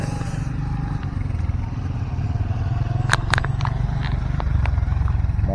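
Steady engine rumble of motorcycles idling in a queue on a narrow, landslide-damaged road in Palembayan, Agam, fills the clip, with a few sharp clanks and rattles partway through.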